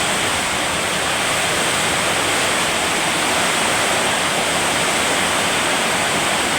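Heavy rain pours down at night in Dasmariñas, heard as a loud, dense, unbroken hiss and roar of falling water with no pauses or voices.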